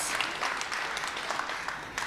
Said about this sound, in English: Let's give the band a huge round of applause.